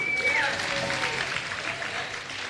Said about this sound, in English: give a round of applause to the Koreatown Senior and Community Center